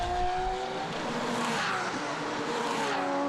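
Porsche GT3 race car at the Zandvoort circuit during a 2014 Porsche GT3 Cup race, a steady engine roar that rises and falls as the car passes, with a faint tire whine.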